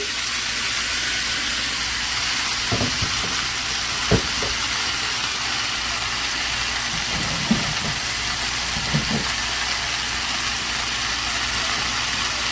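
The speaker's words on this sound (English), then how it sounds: "Then I'm gonna add it to the skillet that I had the steak in." Sliced peppers and onions sauté in the skillet used for the steak, making a steady, moderate sizzle with a few soft clinks and stirring scrapes of a utensil. There is no talk.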